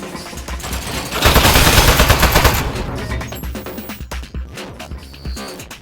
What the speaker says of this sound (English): Oh, jeez, it's got a gun! It's an ambush!